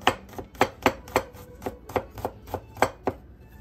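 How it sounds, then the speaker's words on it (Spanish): Garlic being finely chopped with a knife on a cutting board for pasta, a steady series of about a dozen crisp, close knocks at an even pace with nothing else heard. "vamos a picar los ajitos para poder hacer la pasta"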